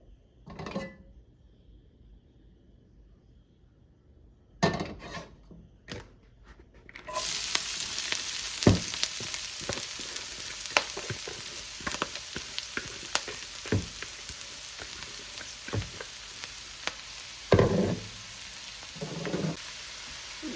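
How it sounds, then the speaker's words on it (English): Collard green and cabbage mixture hitting a hot pan of olive or avocado oil, a steady broadband sizzle that starts loud a few seconds in after brief clatter and continues with crackles and stirring scrapes, no talk. "Then we'll add in our collard green cabbage mixture."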